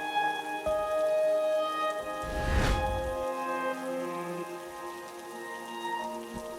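Rain falls outside, a steady patter of drops on surfaces running throughout, with a sustained music-like tonal bed underneath and no talk.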